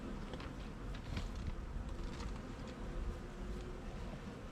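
Honey bees buzz around a honey frame being cleared with a bee brush, a steady dense drone close by with no talking over it.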